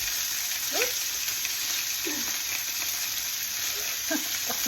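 Sausages and freshly added sliced onions frying in oil in a pan, a constant bright sizzle with a few soft stirring scrapes breaking through now and then.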